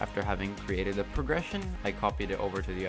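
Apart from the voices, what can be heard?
No distinct noise like a dog, phone or traffic.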